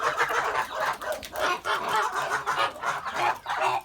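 Three-month-old Kholmogory geese honk and cackle repeatedly in a nearby flock, a busy, overlapping chorus of calls with no talking.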